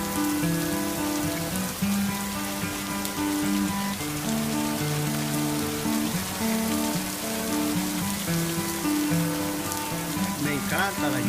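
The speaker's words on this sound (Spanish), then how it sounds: "Me encanta la lluvia." Rain falling steadily during a storm, a dense continuous patter on surfaces outdoors, with sustained musical tones and background sound layered over it for the whole stretch.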